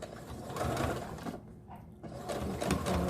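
A sewing machine runs a backstitch through mask fabric, a fast mechanical whirring chatter that pauses briefly in the middle before resuming close and steady.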